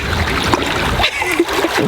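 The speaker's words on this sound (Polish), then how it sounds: "Wejście do wody." A swimmer plunges into cold seawater off Malta with a short, loud splash followed by sloshing and trickling water, while voices talk faintly nearby.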